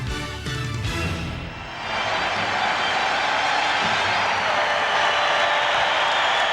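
A crowd of over 17,000 at Chicago Stadium during the 1993 NBA Finals between the Phoenix Suns and Chicago Bulls, a loud, steady roar of cheering and applause that fills the arena throughout.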